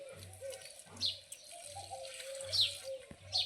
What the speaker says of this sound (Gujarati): પંખીઓ આવે છે, કાયમી ચણ નાખો એટલે કાયમી પંખીઓ